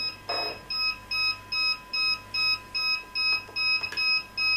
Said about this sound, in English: I turn on the controller for the Phantom and it's beeping like I don't know what.